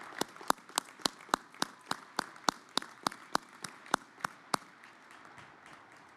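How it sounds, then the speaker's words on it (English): Audience at an afternoon undergraduate commencement ceremony claps in a steady run of sharp, evenly spaced hand claps, each crisp and prominent, slowing and fading toward the end. "Please give them another big round of applause."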